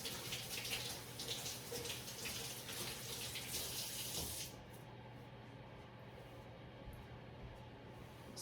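Water runs from a tap while hands are washed, a soft steady hiss for about four seconds that then drops to a quieter, duller flow.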